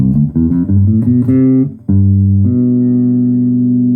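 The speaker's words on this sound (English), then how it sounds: "if I played it from the fifth to the major seventh, which is also an interval of a major third" Loud, clear synth-like tones: a quick run of notes, then two sustained pitches a major third apart, held steadily to the end.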